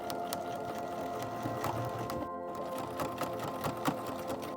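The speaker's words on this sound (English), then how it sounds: "you're going to stitch along this edge right here" A sewing machine runs steadily, stitching along the folded edge of a fantasy tabard costume. It holds a continuous close mechanical whir with a rapid needle rhythm, plus one brief pause partway through.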